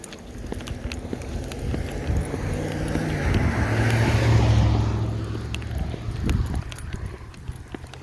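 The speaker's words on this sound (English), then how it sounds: "Car passing." A car passes by during an outdoor walk, its road noise swelling to a peak midway and then fading away over a steady background rumble.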